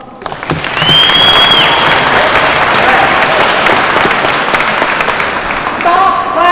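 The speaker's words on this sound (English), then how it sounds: "Stomp, clap, yell, whatever" An audience at an AmeriCorps opening day event bursts into loud, sustained clapping mixed with stomping and cheering yells, then fades slightly near the end. Voices whoop through the noise.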